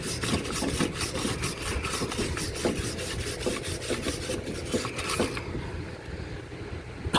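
Steady rapid scrubbing strokes while rubbing brake caliper parts loose on a Hyundai Sonata front brake job outdoors, a continuous raspy back-and-forth close by that thins out near the end, with no talk.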